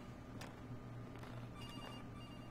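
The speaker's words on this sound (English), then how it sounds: "Oh, I got a phone call." A phone rings in the video game Case Animatronics: faint, quick ringing bursts repeat over a dense, steady background hum, quiet and somewhat buried in the mix.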